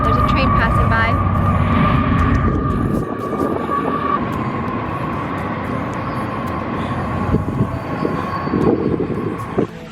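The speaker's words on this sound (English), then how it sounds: "there's a train passing by." A train rumbles past nearby, a loud continuous roar with a steady tone over it, while people talk over the noise.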